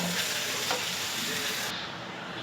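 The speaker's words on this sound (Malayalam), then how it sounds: "നമുക്ക് തിളപ്പിച്ച വെള്ളം ഒഴിക്കണം." Boiled water is poured into a hot pot of egg biryani with soaked rice, giving a steady hissing sizzle that runs unbroken for a couple of seconds.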